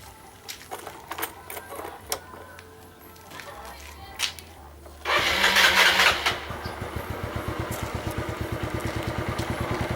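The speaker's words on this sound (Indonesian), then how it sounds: "motor sudah hidup" A motorcycle engine cranks and catches with a loud burst, then settles into a steady, rapid idle putter close by.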